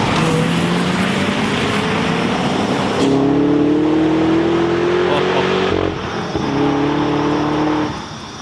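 Supercharged V8 of a Holden HSV Maloo ute revving hard, a loud continuous roar with rising whine that steps up in pitch through gear changes, close and dominant, with a voice talking over it.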